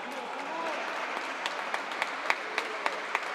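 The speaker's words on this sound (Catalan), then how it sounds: "La gent del públic aplaudint els d'Alfafar perquè estan combatint i peleant molt bé." Spectators clap for the Alfafar team during a Valencian pilota frontó match against Quart de Poblet, a steady wash of applause with sharper individual claps popping out near the end, heard alongside talk.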